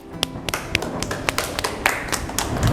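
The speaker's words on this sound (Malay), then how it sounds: "Tepuk tangan." Children clapping in a classroom, a string of sharp hand claps in a loose, uneven rhythm, close and crisp against faint background noise.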